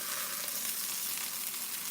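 Sausages sizzle in a frying pan, a steady bright hiss of spattering fat that runs evenly at close range, with no voices.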